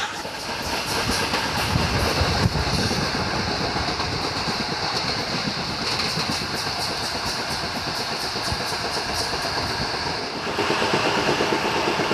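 The Kanchanjunga Express train rolls steadily along the rails with a continuous rumble and faint rhythmic clatter, close and loud, with no talking.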